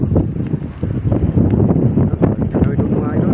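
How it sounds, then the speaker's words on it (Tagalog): Strong wind buffets the microphone in a steady, rumbling roar with gusty surges, outdoors near water by fish pens. "Lakas ang hangin."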